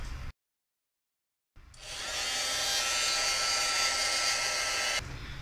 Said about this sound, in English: now I do have my heating tool